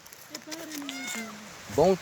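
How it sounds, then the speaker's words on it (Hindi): A shrine cat meows in a few drawn-out, rising and falling cries, fairly close, with a louder burst at the end and people talking nearby. "ये मज़ार की बिल्ली।"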